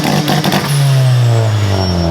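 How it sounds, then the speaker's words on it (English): An EG hatchback's engine on launch control holds a loud, rough, sustained rev with a steady droning pitch and a clattering edge, close to the car with no talk. "it's just the most absurd sounding launch control I've ever heard"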